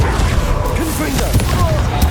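Confringo fire spell blasts during Hogwarts Legacy combat, a dense clattering volley of bangs and crackling impacts that stays loud and steady throughout.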